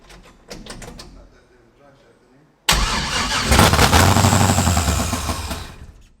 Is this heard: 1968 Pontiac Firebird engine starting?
yes